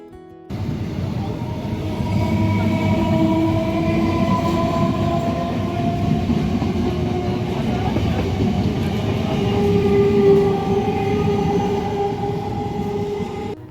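The Katwa local train rumbles steadily at Agradwip station, a loud continuous roll of wheels and carriages with faint tonal whines layered over the drone for the whole stretch.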